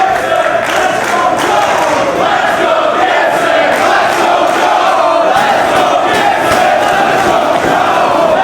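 A split crowd at a Ring of Honor professional wrestling show roars and shouts continuously during a match, a dense, loud wall of cheering and chanting with no clear breaks.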